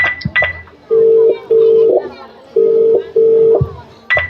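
A phone dialing out to call a father, a few quick low clicks then long steady ringback tones repeating in pairs, fairly loud and close, in a school skit.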